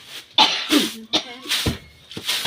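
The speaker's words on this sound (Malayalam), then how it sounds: "ഇതിന്റെ പൊടി വായിലൊക്കെ പോകുമ്പോ ചുമക്ക് വരും കേട്ടോ" Several harsh coughs, close and loud, from someone choking on rice dust while pounding rice by hand in the traditional way, coming in uneven bursts.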